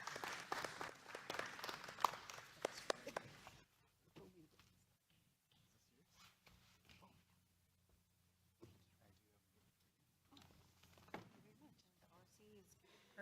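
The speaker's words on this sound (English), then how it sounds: "Let's give Lisa a round of applause" Meeting attendees at an annual general assembly applauding briefly, a faint recorded burst of clapping that stops after a few seconds, followed by quiet room tone and soft speech.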